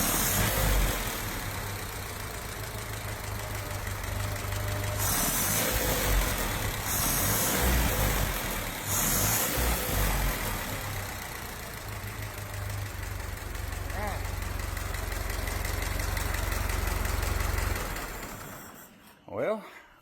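A car engine fitted with a Holley vaporizer runs steadily close by, a loud continuous rumble that rises briefly a few times as the throttle is blipped, then cuts out near the end.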